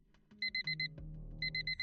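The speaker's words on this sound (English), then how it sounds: "until the alarm went off." An alarm clock rings in short repeated bursts of high beeps, two quick groups over a low hum, fairly faint.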